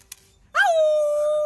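A dog lets out a single sustained, clear howl, sudden and close, holding a steady tone after a brief quiet lead-in.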